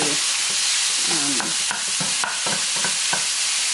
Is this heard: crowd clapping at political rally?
no